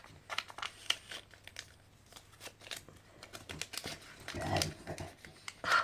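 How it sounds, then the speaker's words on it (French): Small pet bulldog snorts and snuffles at a door wanting to come in, faint irregular sniffing bursts mixed with crinkling and tapping sounds nearby, with soft talk present. "Ça c'est mon petit chien, mon petit bulldog qui est en train de ronfler à la porte pour rentrer."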